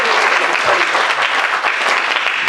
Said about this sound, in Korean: 우리 박수